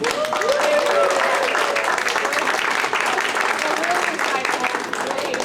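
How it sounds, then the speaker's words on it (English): Sustained audience applause at a women in project management event, a dense, steady wash of clapping lasting throughout, with a few voices calling out over it. "No, just a round of applause for Kathy."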